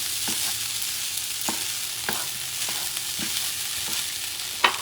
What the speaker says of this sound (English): what I'm doing is mixing this up again